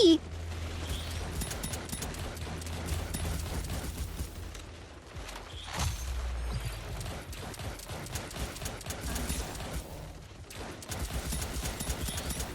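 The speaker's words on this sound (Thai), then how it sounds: "ยิงอับยิงอับยิง" Gunfire rattles in bursts during a Girls' Frontline: Fire Control mobile third-person shooter match, with sharp repeated clicks and shots amid game noise, plus a brief drop to quiet midway.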